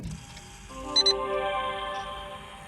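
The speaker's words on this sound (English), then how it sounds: "the sound it makes when I start it. It makes the ETC noise and the radar detector." An ETC toll unit in a Nissan Skyline R34 gives two short high electronic beeps at startup, closely spaced over a sustained multi-tone chime, clear and close inside the quiet cabin.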